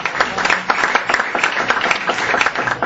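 A crowd gives a singer a burst of loud, close, dense applause that holds steady for a few seconds, with no speech over it.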